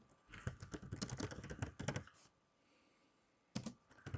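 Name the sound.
typing a search on a computer keyboard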